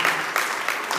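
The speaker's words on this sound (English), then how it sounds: "Please give God a hand clap of praise" Congregation clapping hands in praise during a church service, a dense, sustained wash of many hands across the full second with slight surges, no talk over it.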